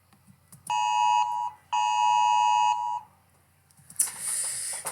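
A phone emergency alert alarm sounds in two loud, harsh bursts of steady buzzing tone, each about a second long and separated by a short gap, followed by quieter noise.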